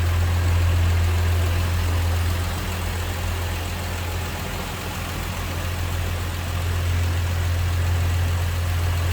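A 1972 Plymouth Duster with a 225 slant six, power steering and factory AC idles steadily up close, giving a smooth, even low hum that holds throughout with no one talking.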